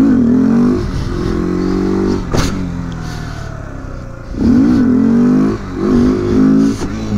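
Motorcycle engine revving in surges during a stand-up wheelie stunt practice, loud and close, with throttle blips rising and falling over several seconds and a brief sharp clatter in between.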